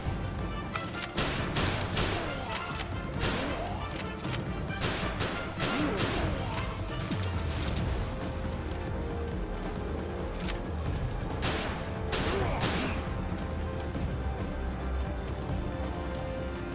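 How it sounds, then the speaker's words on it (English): Rocket launcher firing in Palworld, loud bursts of blasts and crashing impacts repeating across a dense, chaotic stretch of game noise. "Oh, that's a rocket launcher."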